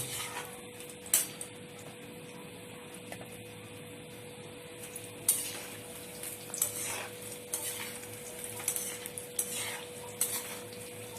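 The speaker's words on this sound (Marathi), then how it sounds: "आपण शंकरपाळ्या तळतोय" Shankarpali sweets fry in hot oil, giving a steady low sizzle with occasional stirring clinks and scrapes from a utensil, close and moderately quiet, with no voices.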